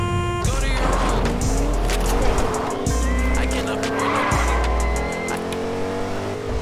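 Car driving and skidding in the Fortnite video game, with a steady engine drone and repeated loud tire squeals and skids, over game music and effects.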